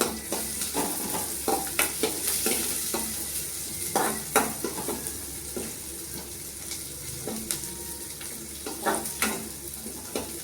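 A curry with a fennel-seed tempering fries in a pan, its continuous soft sizzle punctuated by regular spoon scrapes and stirs, close and moderately quiet.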